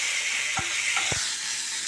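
Ripe tomato frying in a hot pan gives a steady broad sizzle, with two short scraping stirs partway through; close and continuous, no voices.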